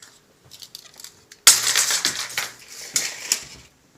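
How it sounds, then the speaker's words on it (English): Adhesive tape peels off a table, with a few soft ticks first and then a sudden loud, crackly ripping burst that continues in rough spurts for about two seconds before stopping. "so I can remove my tape now."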